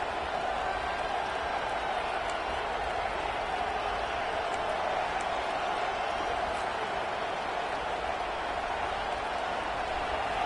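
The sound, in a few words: stadium crowd cheering at football game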